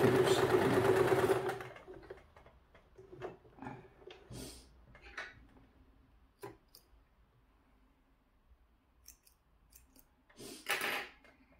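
A sewing machine stitches a suit seam with light, intermittent ticks and short bursts, opening with a louder whir, then sparse clicks and handling noises, close and fairly quiet.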